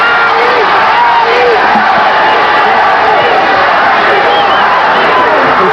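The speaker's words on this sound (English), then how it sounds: "The crowd has come alive." A boxing crowd cheers loudly at a Muhammad Ali versus Trevor Berbick fight, with a continuous dense roar of yells and whoops under a commentator's voice.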